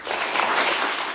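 Audience applause at a cultural gathering honoring the poet-philosopher Allama Iqbal in Oslo, a dense, steady wash of many hands clapping together, loud and sustained through the whole moment with no voices.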